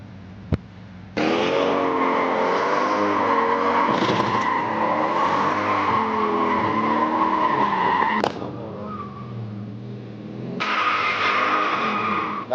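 A car drifts with the driver steering one-handed, its engine droning loud and steady while tires squeal and skid for several seconds, a brief break, then the squealing slide resumes.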